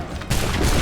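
A musket volley in Assassin's Creed III goes off as a sudden, loud, dense crackle of many shots fired together, then holds as a thick, noisy wash of sound.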